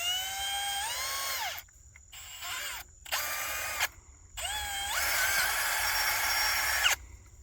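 A cordless power drill bores holes in a gate post for an electrified gate, with several close, loud bursts of high motor whine that rise in pitch as they spin up and stop between holes.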